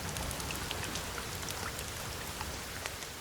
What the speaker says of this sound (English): You don't want to get wet during the rain